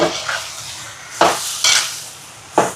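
Spoon stirring dried Maldive fish, chili powder and salt into a chicken curry in a pot, giving a few distinct scraping clanks at irregular intervals over a low background sizzle, close and fairly loud, with no voices.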